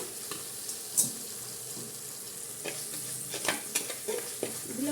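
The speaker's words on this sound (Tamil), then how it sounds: "தக்காளி இந்த அளவு வதங்கினதுக்கப்புறம்" Tomatoes softening in a pan for a squid curry, a faint sizzle under occasional spoon scrapes and stirring clatters, close by and fairly quiet.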